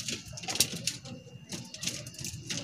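Racing pigeons at a release in Padre Garcia, Batangas make soft low coos close by, mixed with wing flutters and scattered bird noises in an outdoor setting.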